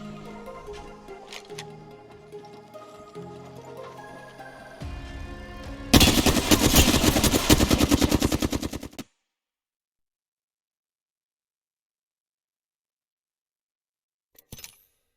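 Rapid automatic gunfire rattles in the Apex Legends video game, a dense burst of close, loud shots for about three seconds following quieter game sounds and music, then silence and a last brief crackle.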